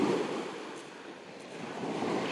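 Black Sea waves washing onto the shore at Yalta on an October morning, a soft, steady surf with faint wind noise, heard alone without voices.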